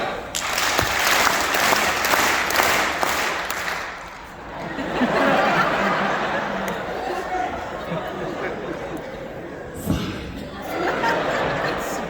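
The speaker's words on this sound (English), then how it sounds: "we're just going to clap 5 times" A seminar audience claps together in a short run of unison claps, with some stragglers adding extra ones, then breaks into laughter, chuckles and chatter; a speaker's voice is also heard.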